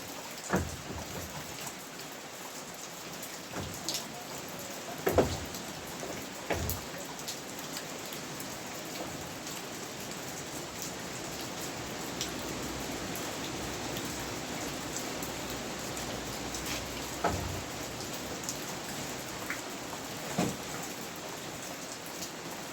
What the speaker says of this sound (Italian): dopo poche ore è tornata nuovamente la pioggia